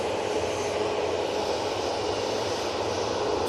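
A TUI airliner at Manchester Airport producing a steady, broad engine roar that holds level throughout, loud and continuous with no voices.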